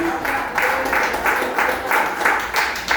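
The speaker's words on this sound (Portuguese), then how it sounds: "Você pode aplaudir o Senhor Jesus?" Crowd applause at a church service swells in rhythmic waves, loud and close, continuing throughout without talk.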